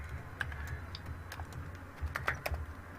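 Code is typed on a computer keyboard in quick, irregular bursts of light key clicks, faint and close, with no talking over it.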